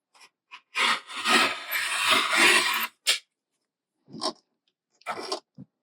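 Rotary or scissor cuts through quilting cotton for a half square triangle quilt block: a sustained rasping cut for about two seconds, then several short, close slicing bursts with pauses between.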